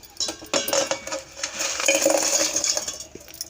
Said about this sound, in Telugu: ఇప్పుడు దీన్ని ఒక గిన్నెలో వేసుకుందాం.